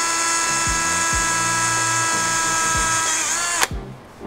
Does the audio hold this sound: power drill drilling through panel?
yes